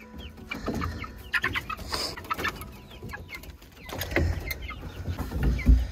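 Backyard chickens clucking and squawking as they are herded into their coop for the night, scattered close calls and short bursts from several birds, louder toward the end.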